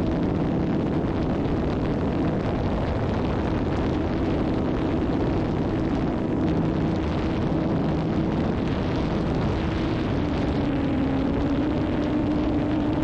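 An RC trainer plane's engine and propeller run at 20% throttle, giving a steady, loud, buzzing drone with a constant pitch that holds for the whole stretch, with no voices over it.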